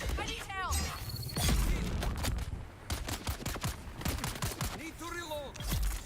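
Gunfire in Dune: Awakening rattles off in rapid clusters of sharp shots with short gaps between them, mixed with other game effects and a voice now and then.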